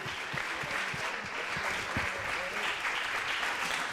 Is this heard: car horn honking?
no